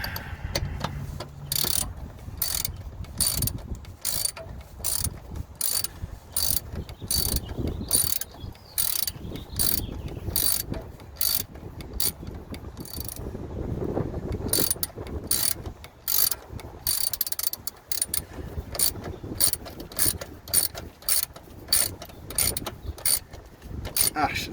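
A ratchet wrench turns a long bolt on a third-generation Cummins diesel engine during a fan clutch replacement, clicking in long repeated runs of fast ratcheting strokes, close and steady.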